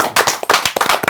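A short, close burst of hand clapping, quick irregular claps from a film-event audience in a Gujarati movie discussion, lasting only about a second.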